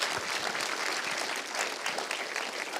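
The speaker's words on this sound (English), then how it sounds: "can we give a big round of applause for all the production folks?" Dense, steady applause from a conference audience at TrustyCon in San Francisco, cheering the production crew; the clapping stays loud and even from start to finish with no voices over it.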